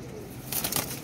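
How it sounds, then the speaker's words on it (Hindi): A pigeon bursts into flight with a quick flurry of wingbeats, a short, close flapping rush over quiet background. "ये गया जी कबूतर, देखें ज़रा"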